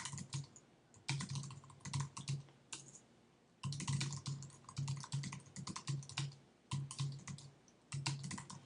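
Typing on a computer keyboard comes in quick clicky bursts separated by short pauses, close and fairly quiet, with no voices.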